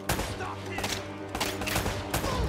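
Gunfire in the Uncharted: Drake's Fortune video game, a rapid burst of several loud shots from close range, with a voice talking over them.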